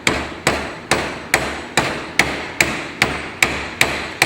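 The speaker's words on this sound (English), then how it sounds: "We're just going to tap this on very gently." A hammer taps a new bearing onto a shaft of a 50cc Vespa through a 12mm socket, about ten even, sharp metallic knocks spaced evenly, close and clear with no talk.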